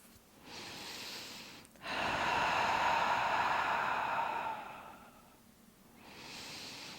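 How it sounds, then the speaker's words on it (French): A long, steady exhale through the mouth during a standing Pilates breathing exercise, breathy and close, preceded by a shorter breath and followed by another softer breath. "une longue expire par la bouche pour bien engager le centre et les abdominaux profonds"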